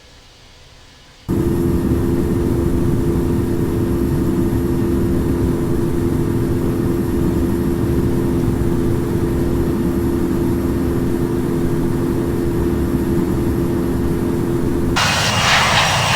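Airliner jet engines roaring through a takeoff roll in the Infinite Flight simulator, departing Chicago O'Hare: a loud, steady, dense rumble that starts abruptly after a brief quiet moment and holds evenly before shifting near the end.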